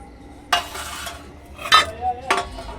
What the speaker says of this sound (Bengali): এবার আমি এই বিনস আর ক্যাপসিকাম এগুলো দিয়ে দেব